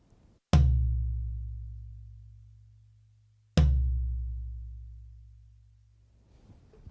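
Two heavy, low floor tom hits a few seconds apart, miked toward the drum's center, each booming and ringing out slowly, close and alone with no talking.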